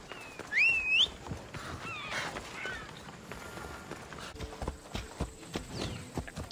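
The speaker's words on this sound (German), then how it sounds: "Auf jeden Fall habe ich jetzt noch mein altes Pferd." Horse hooves clip-clop in the Assassin's Creed Odyssey video game, a light, steady walking rhythm of soft hoof taps at mid distance, with a brief bird-like whistle near the start.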